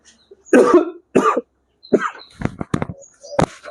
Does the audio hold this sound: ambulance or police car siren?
no